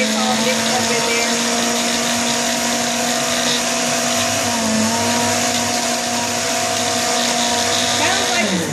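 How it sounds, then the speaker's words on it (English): A blender runs continuously crushing ice for a mocha latte smoothie, a loud, steady motor whine with grinding and rattling throughout, close up, with a slight pitch dip midway. "Do it one more time just to get the ice all mixed up in there."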